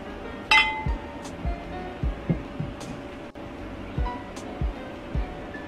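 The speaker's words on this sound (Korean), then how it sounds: "짠! 유리와 유리가 부딪히는 소리." A wine glass clinks against a wine bottle in a toast: one bright, ringing clink near the start, then several softer taps and light thuds in a quiet room.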